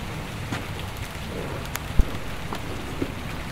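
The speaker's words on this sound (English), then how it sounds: "Now it's icing now. And raining too." Rain mixed with freezing rain falls steadily outdoors in Trenton, New Jersey, a continuous close hiss of drops with a few sharper ticks and taps, no voices.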